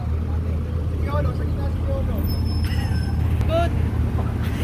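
Steady street traffic of cars and buses rolling past, a low continuous drone with occasional hisses and squeaks, as someone talks and laughs over it.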